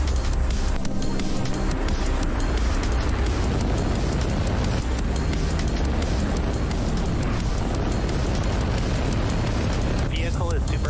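A SpaceX Falcon rocket lifting off on a Starlink mission produces a dense, continuous roaring rumble that fills the whole clip with broadband noise, loud and steady, while a voice on the launch net speaks over it.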